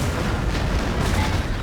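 Napoleon: Total War game battle with distant cannon artillery fire, dull booming rumbles blending into a continuous low battlefield din over the short stretch.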